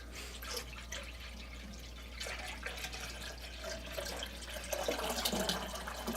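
Water running into a container to test a Bluetooth speaker's waterproofing, a faint trickle and splashing drips that grow louder toward the end, with no voices.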